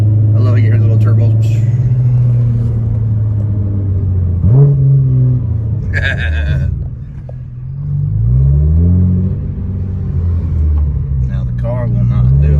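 Boosted 600 hp Nissan GT-R with a turbocharged engine revving and pulling up through the gears from inside the cabin, a steady loud drone rising and falling in pitch, with brief turbo whooshes and people talking over it.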